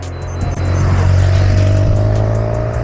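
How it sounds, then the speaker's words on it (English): A car passes by on a road near the Snowdonia mountains, loud and close, with a steady rising engine drone that swells and holds, heard from roadside where cyclists have stopped. "Shame about the bloody cars."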